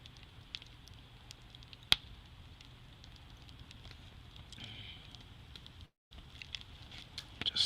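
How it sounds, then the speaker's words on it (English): A campfire burning outdoors at night, with soft sporadic crackles and pops over a faint steady hiss, quiet and distant, with a brief dropout near the end. "the crackle of the fire, but it's going pretty good"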